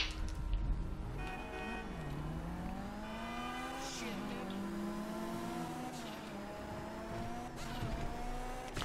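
A car engine in the video game GTA V Online revs and shifts while driving, its pitch rising and falling at moderate loudness, with no voices over it.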